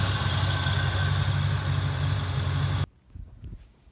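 A Fox Body Mustang engine idles steadily with a low, constant rumble, then cuts off abruptly near the end, leaving only faint scattered noises.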